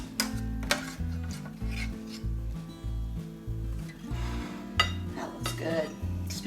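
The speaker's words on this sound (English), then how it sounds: "I'm gonna scoop it to a plate so it won't be sitting in that grease." A utensil scrapes and scoops Instant Pot pizza meatloaf out of the greasy pot onto a plate, with repeated metallic clinks and scraping knocks over a low rhythmic background.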